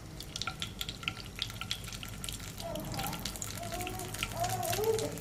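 Hot oil in a pan for a Hyderabadi dhai chicken recipe, a steady hiss and sizzle with faint clinks and a liquid splash, close by while a voice talks over it.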